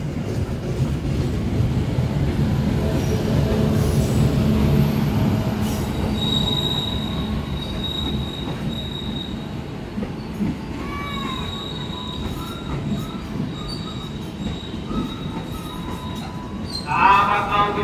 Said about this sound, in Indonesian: kereta api Jayakarta diberangkatkan kembali